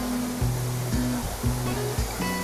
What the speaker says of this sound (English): Do you want to see more about this waterfall?